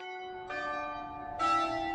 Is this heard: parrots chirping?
no